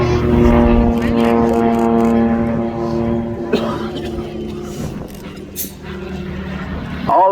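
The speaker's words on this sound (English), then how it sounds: "Already approaching from the left side, 4 aircraft." Propeller aircraft drone at the RAF Cosford Airshow 2025, a loud, steady engine hum whose pitch slowly drops as the planes pass. An announcer talks over the sound.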